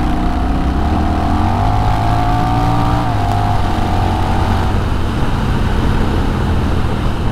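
A Honda Rebel 1100 motorcycle fitted with a Coffman's Shorty exhaust revs steadily and loudly, climbing in pitch and then holding under heavy wind rush while riding at highway speed.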